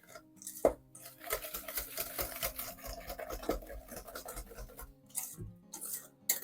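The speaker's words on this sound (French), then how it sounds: "Vous prenez ces trois choses-là, vous remuez, vous remuez, vous remuez avec un fouet." A whisk stirring coconut, sugar and other ingredients in a bowl, rapid scraping and clinking in a continuous rhythm, close and faint, no talking.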